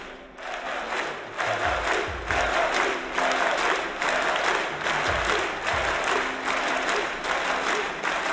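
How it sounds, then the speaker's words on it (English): A large esports arena crowd at a Counter-Strike match cheers and applauds steadily, a dense roar of clapping and shouting that swells after the first second and holds loud throughout. "Who are they cheering for right now?"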